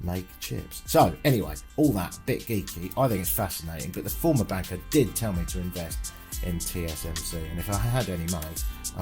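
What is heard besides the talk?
No distinct noise like a dog, phone or traffic.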